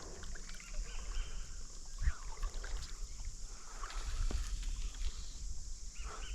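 Paddles dip and stroke through the water from a small boat drifting on a trout stream, with steady water wash and low knocks throughout, fairly close and moderately loud, with no talking.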